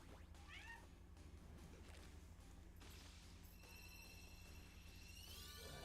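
A house cat gives a few close meows, one clear cry early on and more toward the end, over a steady electronic background hum without talk.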